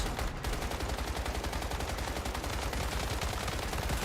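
Rapid, dense gunfire from the Once Human video game on a hard mode server, continuous and loud throughout with a brief dip near the start, no voices.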